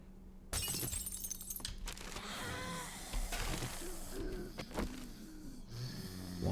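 Sinks and plumbing being smashed in the game 7 Days to Die, a run of sharp, close breaking and shattering impacts scattered across the passage with scraping debris between hits, and no talk.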